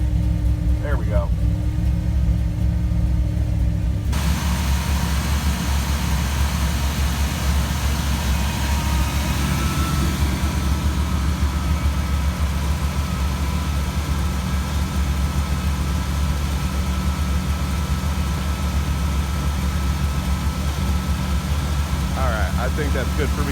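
A car engine idles steadily after a cold start on a cold day, a low continuous rumble that runs throughout with a heater fan switching on early; a person talks over it.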